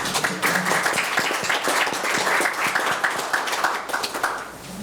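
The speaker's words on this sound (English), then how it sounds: "can we give them a round of applause?" Applause at a school board meeting, a room of people clapping steadily and fairly close for several seconds, with no talk over it.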